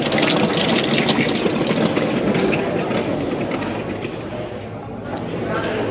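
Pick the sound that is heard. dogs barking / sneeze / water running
water running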